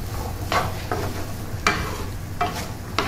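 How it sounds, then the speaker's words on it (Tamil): Carrots and beans are stirred in a hot pan over a low steady sizzle, with four or five distinct scraping strokes of the spoon, close up and with no talking. "இதை நல்லா மிக்ஸ் பண்ணிக்கலாம்."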